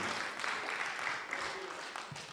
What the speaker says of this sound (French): un grand applaudissement pour Jacqueline pour son contribution